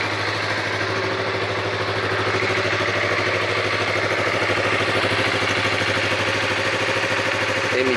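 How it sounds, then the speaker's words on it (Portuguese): Yamaha MT-03 motorcycle, new and not yet run in, idling with a steady low rumbling exhaust burble close by, an even continuous throb with no talking over it. "Olha o barulho desse escapamento."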